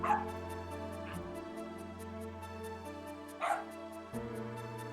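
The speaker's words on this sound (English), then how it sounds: "can you hear my dogs?" Several dogs bark repeatedly in a home, picked up through a microphone that is not suppressing the noise; the yips and barks come in bursts over a steady electronic hum and a regular ticking pattern.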